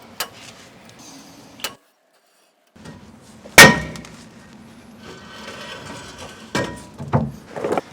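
Sharp metallic hammer blows strike from behind a rusted rear brake rotor on a 2012 Ford F150 3.5 to free it from the hub. The few loud, irregularly spaced clanks are heard close up, with quiet shop noise between them.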